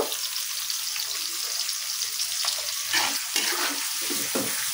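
Sliced onion fries in a pan of oil for noodles, a continuous close hiss of sizzling with faint stirring scrapes and no talk.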